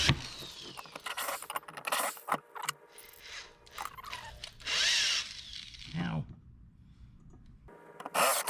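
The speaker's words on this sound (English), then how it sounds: "Just got one more hole to drill on the top." A power drill whirs in short bursts while drilling holes on a C5 Corvette, stopping and starting, with a longer steady run near the middle and people talking between bursts.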